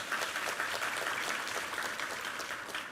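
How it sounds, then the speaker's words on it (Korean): A church congregation at a Sunday worship service gives a steady, dense round of applause, moderately loud and continuous, with many hands clapping together and no talk. "우리 하나님께 감사와 영광의 박수 올려드리겠습니다"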